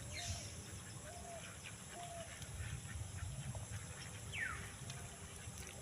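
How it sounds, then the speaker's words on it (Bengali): Domestic ducks roaming around a village in Kashidi, Manbazar, a few faint scattered quacks and calls heard at a distance over a constant low outdoor rumble, with no talk. "এই যে হাঁস চারিদিকে ঘুরে বুলছে"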